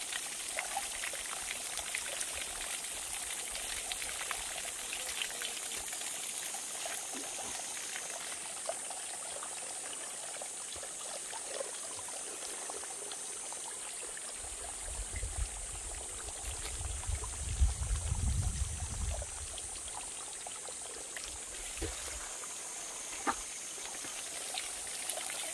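Cold mountain valley water pours steadily from a homemade waterfall, a continuous splashing rush that swells louder partway through, with no voices heard.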